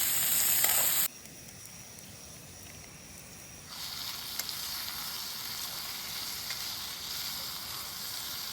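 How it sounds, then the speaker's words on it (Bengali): Meat is sautéed (kosha) in a pan over a campsite stove in Gurdum village, Darjeeling, near the end of cooking. A soft, steady sizzle hisses at low volume, shifting slightly in level partway through, with no talking. "মাংস কষানো হচ্ছে এখন মাংস প্রায় শেষের পর্যায়ে রান্না করতে করতে"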